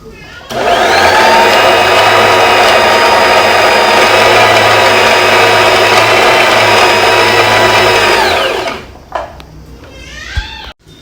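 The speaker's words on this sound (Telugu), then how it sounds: "సో ప్రజెంట్ మనం బయటికి పెట్టి బాబిన్ ఫిల్ చేద్దాం." A sewing machine winds a bobbin with a loud, steady high whirring motor drone that runs unbroken for about eight seconds close up, then spins down and stops, followed by a few light clicks.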